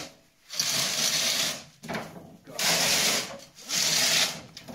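A hand saw cuts through Bath stone in a quarry, three long rasping strokes with short pauses between, close and loud, gritty and steady through each pull.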